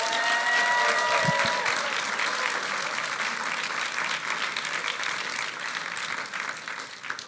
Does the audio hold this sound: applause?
yes